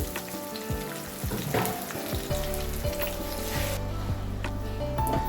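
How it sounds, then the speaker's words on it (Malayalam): A pan of spinach curry sizzles and bubbles steadily as it boils, with occasional scraping and stirring clatter close by. "ഇത് നല്ലോണം ഒന്ന് തിളയ്ക്കണം"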